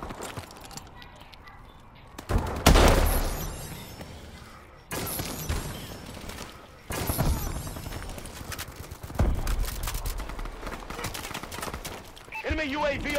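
Gunfire in a Call of Duty multiplayer match on the classic playlist comes in bursts of loud, close shots separated by quieter stretches, with game sounds throughout.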